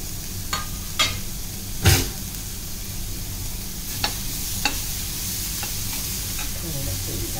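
Onions sautéing in a pan for a makeshift dub roti trekking breakfast, a steady low sizzle throughout with a handful of sharp spatula scrapes and taps at irregular intervals.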